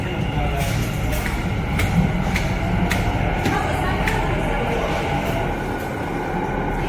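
Steady low rumble and rolling hum inside an Ahmedabad metro train car while riding, with faint periodic clicks from the track, constant and close throughout.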